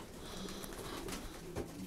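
Pigeons in a loft cooing softly and continuously, fairly close, with a steady low murmur of several birds and a brief louder call near the end.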